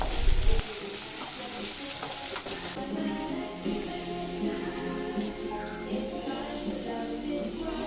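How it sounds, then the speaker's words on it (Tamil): Chopped vegetables with ginger garlic paste and green chillies sauté in a pan for a vegetable white kurma, giving a steady, close sizzle with crackling bursts of frying. "அதுக்கப்புறம் நம்ம கட் பண்ணி வச்சுருந்த வெஜிடபிள்ஸ் எல்லாமே சேர்த்துட்டு நல்லா சாட்டே பண்ணுங்கள்."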